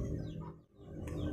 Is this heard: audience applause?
no